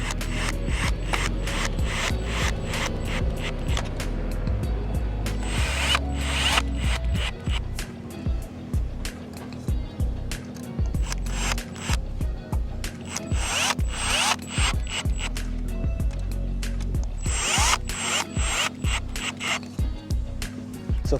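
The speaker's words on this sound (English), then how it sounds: "with your screwdriver, or my drill, we're gonna go ahead and fasten these all the way" A power drill drives bolts into a plastic YEFU Adirondack chair during assembly, giving a steady run of rapid ratcheting clicks and grinding bursts for about twenty seconds, close and fairly loud, with no talking.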